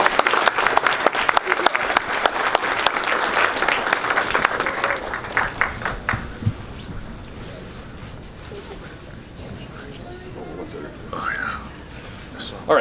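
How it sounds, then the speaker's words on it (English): A crowd at a city council meeting gives a lively round of applause for about six seconds, then it fades into low room murmur and soft background noise. "Let's give them a round of applause."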